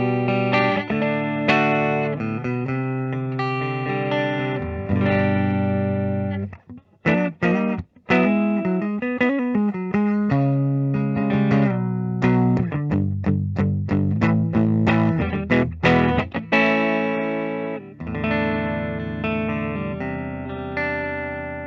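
A 2018 Gibson Modern Double Cut semi-hollow electric guitar on its neck pickup plays warm, round chords and single-note runs with effects and some distortion, sustained and steady with a few brief pauses.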